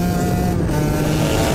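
An Aprilia RS 125 racing motorcycle engine running steadily with a full, buzzy two-stroke tone, loud and close, holding a constant pitch with no talking.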